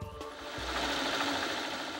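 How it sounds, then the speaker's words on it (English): An antique sewing machine runs with a steady, dense mechanical whir and fast stitching rattle, heard close and continuous for about two seconds, beginning with a brief clunk. "Sitting at his antique sewing machine, Mr. Homer focuses attention on how to make"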